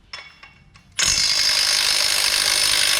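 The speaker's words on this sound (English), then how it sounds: "So I need a 3/4 inch with a 1/2 inch impact." A 1/2 inch impact wrench fitted with a 3/4 inch socket zips off the flywheel bolts of a 392 Hemi V8 in a garage. A few short clicks come first, then a sudden loud, sustained rattling hammer.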